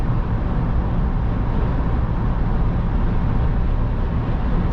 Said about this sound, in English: But there's a little bit of road noise, but it's not bad.